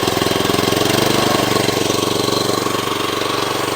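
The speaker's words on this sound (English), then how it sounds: "get this Honda GX started" A Honda GX small engine runs after a pull start, a loud, steady, rapid putter close by with no talk over it.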